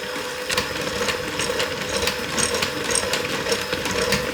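A Ninja Creami machine mixes strawberry ice cream, giving off a steady mechanical whirring drone with a faint rhythmic knocking, close and uninterrupted.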